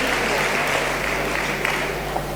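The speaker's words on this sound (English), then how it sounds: "A round of applause for our two speakers" A conference audience applauds two speakers after a legal-ethics debate session, a dense, even crackle of many hands clapping continuously for a couple of seconds with no pause.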